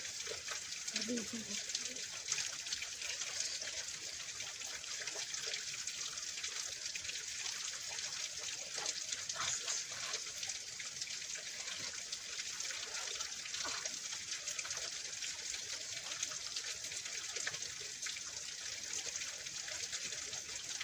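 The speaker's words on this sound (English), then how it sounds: "10 minutes of listening to the water" Water trickling and flowing in a steady, continuous stream, an even bright wash that holds at moderate level throughout, with a voice briefly audible early on.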